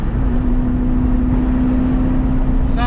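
A Honda Del Sol's engine and exhaust hold a steady, droning hum at constant revs, close and fairly loud, with a faint high chirp at the very end.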